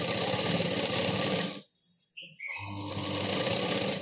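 A sewing machine stitching a sleeve onto a readymade dress, running in a fast loud close whir that stops briefly for a pause with a few small clicks, then starts running again.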